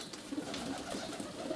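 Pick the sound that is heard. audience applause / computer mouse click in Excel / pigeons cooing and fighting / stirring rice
pigeons cooing and fighting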